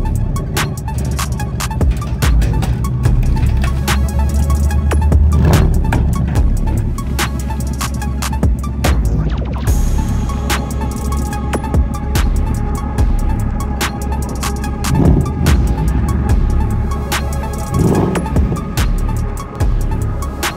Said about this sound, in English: the next clip will be the car getting unloaded off of the trailer.